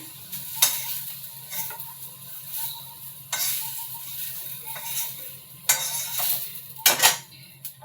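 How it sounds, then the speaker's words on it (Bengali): Fritters of boiled, ground green banana peel crackle and sizzle in hot oil, punctuated by sharp clinks and scrapes of a metal utensil against the pan as they are lifted out, close-up with no speech. "কলার বড়াগুলো তুলে নিচ্ছি"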